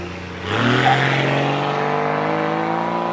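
A Tarpan pickup fitted with a 4.0 litre Jeep Cherokee engine of about 200 hp fires up about half a second in, then settles into a loud, steady, throaty running note with no voices over it.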